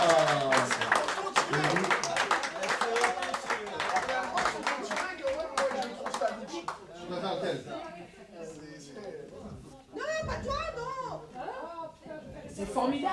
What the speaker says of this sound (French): on applaudit très très très fort pour la première fois